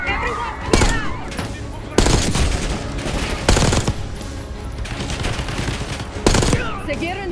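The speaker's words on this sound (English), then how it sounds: "They're shooting! Get down!" Automatic gunfire in the Call of Duty Black Ops 6 campaign: dense, loud bursts and sharp shots over a busy battle mix, with voices shouting underneath.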